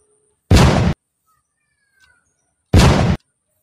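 Toy pistol sound effect going off twice, about two seconds apart: each shot is a loud, short burst of electronic noise lasting under half a second, with near silence between the shots.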